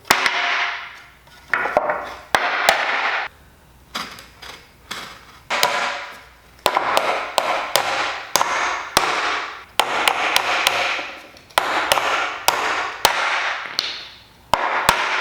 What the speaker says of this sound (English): It's time